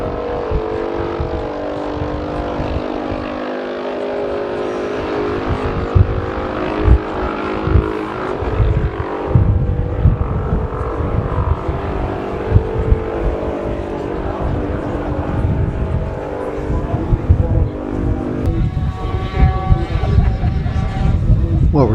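A 350 BSA Gold Star racing motorcycle at a classic Manx Grand Prix road race, its engine note roaring steadily close by for the whole stretch, rising in pitch as it passes, with a commentator's voice running over it.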